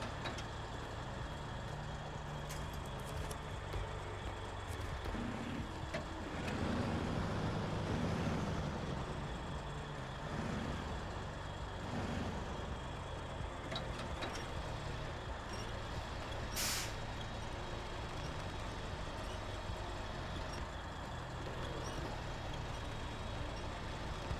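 A heavy truck in the game Snowrunner, on hard mode, hauling a trailer, with a steady low engine drone and air-brake hisses running throughout, moderately loud and continuous with no talking.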